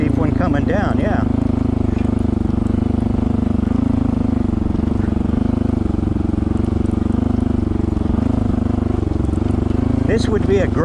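A Honda CT125 motorcycle climbs an off-road trail in first gear, its engine droning loud and steady throughout. A rider talks over the engine noise.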